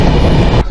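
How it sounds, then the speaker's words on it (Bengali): Inside the AC chair car of the moving Kandari Express between Howrah and Digha, a loud, close, constant rail rumble and roar that briefly dips near the end. "4:25 ট্রেন কোলাঘাট পার হলো।"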